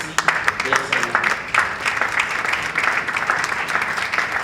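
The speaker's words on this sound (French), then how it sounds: "C'est timide ces acclamations." Sparse, hesitant clapping from a conference-hall audience welcoming seated participants, scattered claps dying in and out over a low room murmur.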